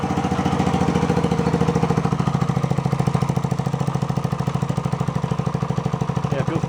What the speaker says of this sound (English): Muffler's real loud